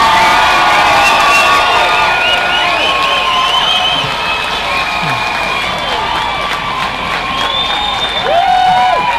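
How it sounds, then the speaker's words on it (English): A large outdoor protest crowd in Manchester, gathered against the Tory Party conference, cheers, whoops and applauds loudly and without a break, with shouts rising above the roar. "What a beautiful Mancunian crowd on a beautiful Mancunian day."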